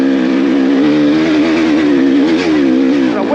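Loud, continuous engine drone of an offroad motorcycle (dirt bike) riding over loose, chunky terrain, with steady revving that wavers in pitch, close and alone with no talk.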